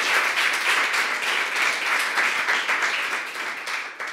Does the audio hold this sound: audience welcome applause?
yes